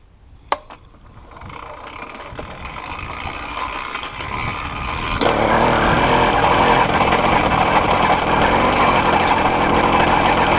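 A small 80cc two-stroke bicycle kit engine sputters into life after a sharp click, then runs with a buzzing, rattling drone that grows louder and holds steady.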